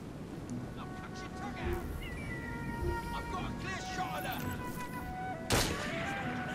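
Gunshots ring out in Assassin's Creed Syndicate, sharp cracks scattered over several seconds, with a louder burst near the end. They sit under ongoing talk and busy game ambience.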